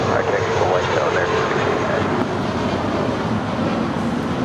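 American Airlines Airbus A320 departing LAX, a steady broad roar of jet engines that holds loud and constant throughout, heard from the airport with no clear talk over it.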